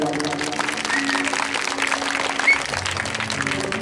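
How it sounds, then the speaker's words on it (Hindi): An audience at a Shrimad Bhagwat Katha gathering at a temple in Ujjain gives loud, sustained applause, a dense even roar of clapping with a faint tonal hum beneath. "दीदी जी के लिए जोरदार तालियां"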